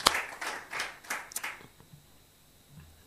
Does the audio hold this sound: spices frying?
no